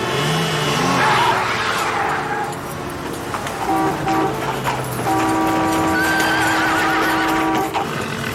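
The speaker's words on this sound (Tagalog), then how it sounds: "umihila yung kabayo ko" A horse whinnies loudly near the start, amid busy outdoor street noise with traffic and other background sounds throughout.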